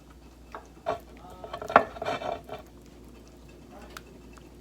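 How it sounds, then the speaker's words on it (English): A vegetable and rice mixture seasoned with crushed red pepper gets stirred in a pan, with scraping and clinking of a spoon against the metal, one louder knock, and a faint sizzle underneath. "so let's get this all stirred up"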